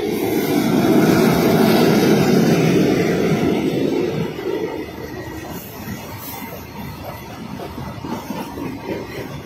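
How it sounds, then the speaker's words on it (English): A long combined goods train on Indian Railways rumbles past, loud and close at first with heavy low rolling noise, then gradually receding into a quieter steady clatter. "The 4 goods train now the combine is going on."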